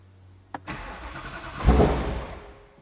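The engine of a Ford Mustang Mach 1 in Eruption Green cranks over on the starter after a sharp click, producing a brief mechanical whir with a louder burst midway and no firing.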